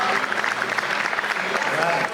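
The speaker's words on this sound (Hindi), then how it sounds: "मैं चाहती हूँ एक बार इनके सम्मान में तालियां होनी चाहिए।" Audience at a comic Hindi poetry gathering (hasya kavi sammelan) clapping in a dense, sustained burst of applause filling the hall, with some voices mixed in.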